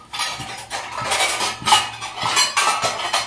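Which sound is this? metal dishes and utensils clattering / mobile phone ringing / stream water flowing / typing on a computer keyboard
metal dishes and utensils clattering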